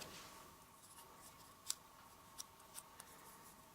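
Scissors cut paper into a fishtail shape for a handmade card, giving a few quiet, separate snips close by against a faint steady hiss.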